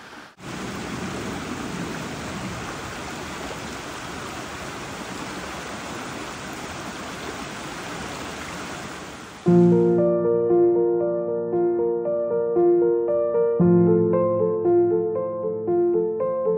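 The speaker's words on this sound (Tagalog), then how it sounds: "nagbanlaw muna siya ng tubig dito sa ilog" Rushing water flows steadily and loudly for several seconds, then music abruptly takes over.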